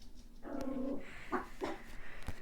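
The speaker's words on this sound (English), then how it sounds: "Sorry, the dogs." Dogs make a few short muffled barks and whines indoors, faint and intermittent, with long gaps between them.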